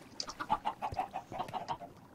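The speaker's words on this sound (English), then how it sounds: "I hear baby chickens" Baby chickens in the video game Minecraft chirp and cluck in a quick run of short, high peeps, close and clear with no talking.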